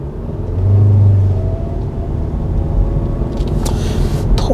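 A 2022 MG Hector CVT pulls away from standstill in sports mode, its engine swelling into a loud, steady drone with rumbling road noise, heard from inside the cabin.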